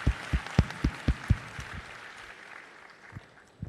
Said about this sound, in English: can we have a huge round of applause for Honorable Mr.